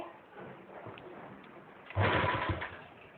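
A sewing machine stitching the pleats of a Patiala salwar, with a soft whir early on and then a louder rattling burst of stitching near the middle that trails off, heard up close.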